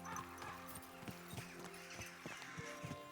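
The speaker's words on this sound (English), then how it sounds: "Let's park the horse here." Horse hooves clip-clopping in Kingdom Come: Deliverance 2, a steady close walking rhythm of distinct hoof strikes with no talk over it.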